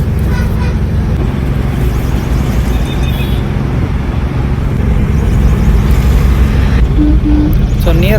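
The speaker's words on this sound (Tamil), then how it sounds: "டிராஃபிக் ஸ்டார்ட் ஆகிடுச்சு" Steady road traffic on Vandalur Road near Maraimalai Nagar, recorded from inside a moving vehicle, with a continuous loud engine and road rumble throughout and brief horn-like tones near the end.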